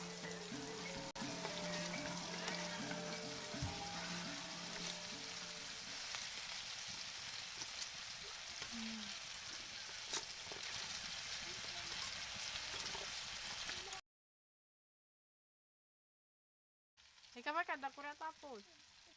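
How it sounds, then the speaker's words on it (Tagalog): Fried tilapia pieces going into a pan of hot oil for coconut-milk paksiw, giving a steady close sizzle with light stirring clatter that cuts to silence near the end before a brief return of noise. "Pagkatapos kong halukayin, isinunod ko na rin yung mga pritong tilapia."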